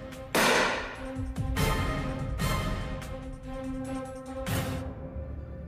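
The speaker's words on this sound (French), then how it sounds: "Des coups de feu retentissent." Four loud, sharp gunshots in an attack by right-wing extremists, spaced about a second apart with ringing decay between them, close and dramatic over a sustained droning tone.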